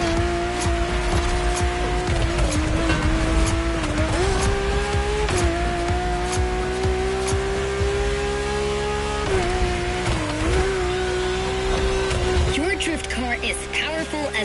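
A powerful race car in a driving video game, engine droning loud and steady while it shifts and climbs in pitch, with tire squeals and skids breaking in repeatedly and a voice talking over it.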